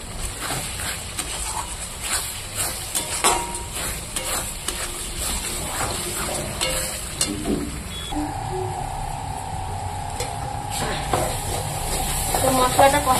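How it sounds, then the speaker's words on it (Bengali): Masala sizzling and being stirred in a hot pan for a jackfruit curry, with potatoes, onion and dried red chillies already fried; a steady frying hiss with scraping stirs throughout, rising slightly louder toward the end. "তো চলো আগে মশলাটা কষিয়ে নিই"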